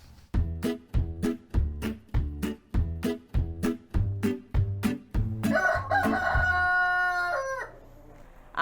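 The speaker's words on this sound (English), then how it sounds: "Gallio and Danny, the Roosters, need a home." Roosters in an animal shelter give a rapid train of sharp, rhythmic clucks, then one long loud cock-a-doodle-doo crow close by, with no speech.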